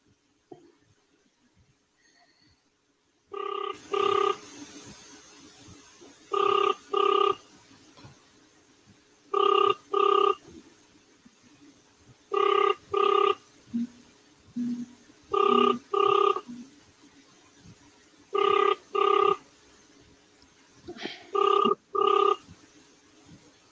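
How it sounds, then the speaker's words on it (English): A telephone rings in regular paired bursts, repeating about every three seconds, clear and unanswered over a quiet background hum. "it's ringing, no answer"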